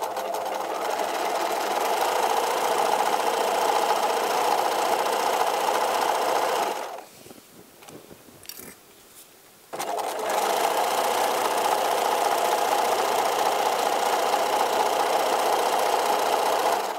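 A sewing machine stitches fabric with a loud, steady mechanical whir, stopping briefly for about three seconds midway before running on continuously.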